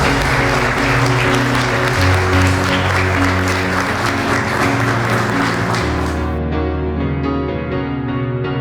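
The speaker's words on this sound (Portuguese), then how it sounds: "Aplaudam a Deus." Wedding guests applaud during a church ceremony, loud sustained clapping over sustained organ or keyboard chords, with the clapping ending while the music keeps going.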